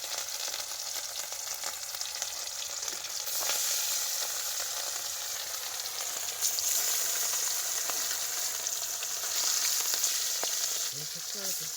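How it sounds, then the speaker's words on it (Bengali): Fish frying in hot oil in a home kitchen in the Sundarbans, a continuous loud crackling sizzle that swells in bursts as pieces settle, with no talk. "এখন মাছগুলো আগে ভেজে নিই তেলগুলো গরম হয়ে গেছে"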